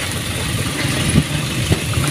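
A steady truck engine runs beneath the rider, who sits on top of the truck on a road in Leyte. The drone is loud and constant, with a couple of short low thumps from bumps.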